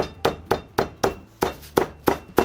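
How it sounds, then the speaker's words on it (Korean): A wine bottle pounds a chicken breast covered with plastic wrap on a board, giving eight evenly spaced dull thuds at a steady beat. The strikes are close and firm, with no speech. "우선 비닐을 덮으시고, 집에 다들 하나씩 있을 법한 와인병으로 때리시면 됩니다."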